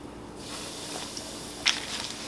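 A steady broadband sizzle and hiss of chicken frying in hot oil, with a brief sharp crackle partway through.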